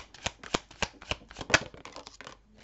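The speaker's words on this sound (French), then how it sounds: "je prends la dernière carte" A tarot card slid from the deck with a run of soft, rapid card flicks and shuffles, close and alone, ending quieter.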